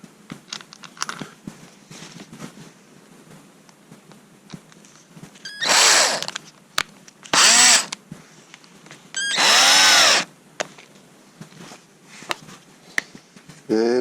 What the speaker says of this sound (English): And screw it down until it's snug.